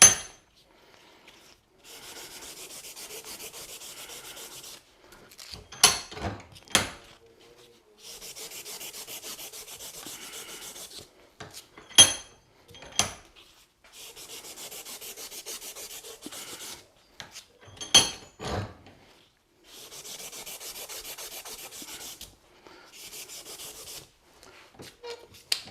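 A graphite golf shaft sanded by hand to taper it from .370 to .355, heard as repeated bursts of steady abrasive rubbing separated by quiet pauses and sharp knocks of handling.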